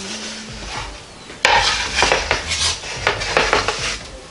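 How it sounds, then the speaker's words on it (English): A pepperoni pizza scrapes off a pizza peel onto a NuWave Primo grill plate, starting with a sudden metallic clank and then a run of rough scraping and knocking sounds, close and fairly loud. "let's see how easily I can get it onto the grill plate from off my pizza peel"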